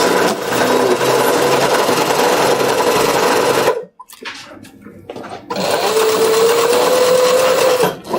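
A sewing machine stitches a leather briefcase in two loud, steady runs of about four and two and a half seconds, with a short quiet pause and some faint handling noise between them.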